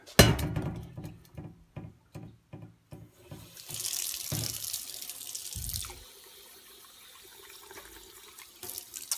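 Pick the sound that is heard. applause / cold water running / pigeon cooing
cold water running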